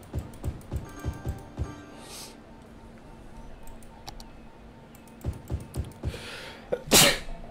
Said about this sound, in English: unfortunately had to sneeze when I was recording.